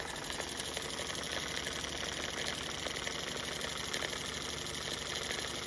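A Jensen Model 55 toy steam engine, fitted with cylinders originally made for a small air pump, runs steadily at close range, giving a continuous fast mechanical chatter with a faint high whine and no talking.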